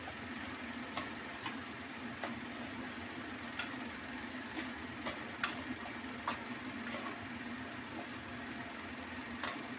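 Rice is stirred and mixed with spices in a pan, a faint low sizzle under regular light scraping ticks from a spatula at a steady pace.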